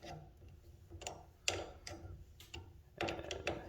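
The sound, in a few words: 1/2 inch wrench tightening garage door chain bolt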